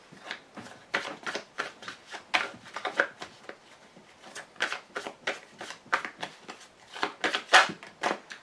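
Playing cards shuffled over and over in a quiet room, a steady run of crisp riffling bursts, close and fairly soft, with no voice over them.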